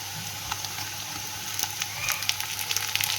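Tomatoes hiss into browned onions frying in a pan: a steady moderate sizzle with scattered pops and small clicks that grow livelier toward the end, with no voices.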